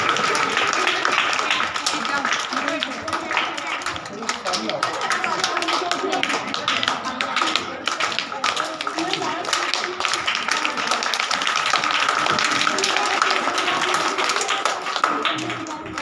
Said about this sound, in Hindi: तालियां बजती रहनी चाहिए इनके लिए